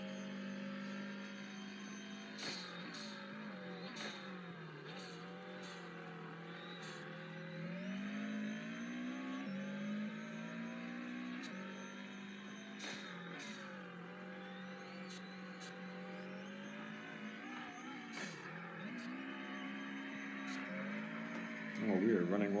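A Subaru car's engine drones and rises through gear changes on a hot time-attack lap, steady and fairly loud with revs climbing and falling, with occasional clicks and bumps.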